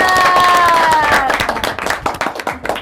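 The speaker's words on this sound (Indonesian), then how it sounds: "Tepuk tangan dong teman-teman." An audience claps enthusiastically, a tone fading out at the start, then individual claps become distinct as the clapping thins toward the end.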